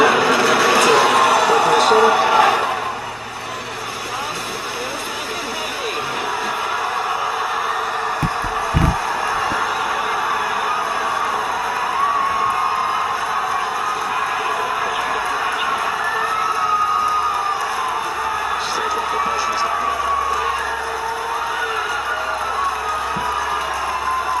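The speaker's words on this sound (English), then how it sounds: "This is the launch of the Falcon 9 Heavy launch" Falcon Heavy rocket launch: a broad roar blends with crowd cheering from a distance, loud at first, then a sustained rumbling wash with voices throughout.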